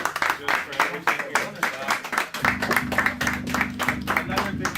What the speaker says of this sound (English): can we give them a big round of applause real quick